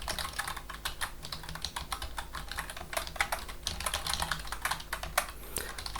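Fast, steady typing on a computer keyboard while entering a simple Hello World program in C, with dense overlapping key clicks running throughout, close and clear with no talking.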